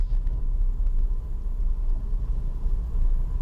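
A 2016 FK2 Honda Civic Type R driving, heard as a steady low engine and road rumble from inside the car, with no talk.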